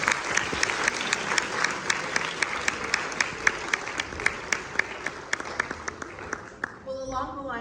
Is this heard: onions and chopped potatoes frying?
no